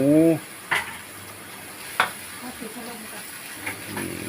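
Pork stir-fries with garlic and black pepper in a hot pan, giving a steady sizzle with sharp scrapes and clinks of a spatula against the metal; a voice speaks briefly at the start.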